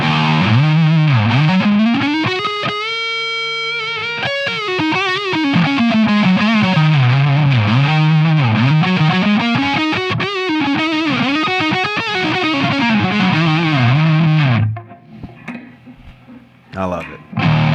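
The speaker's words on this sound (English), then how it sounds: "One of my other favorite things about the Fralin pickups is the necks." A custom Seger electric guitar on its Fralin neck pickup plays heavily distorted, sustained notes and bends at a loud, steady level, closing on a quieter, sparse tail.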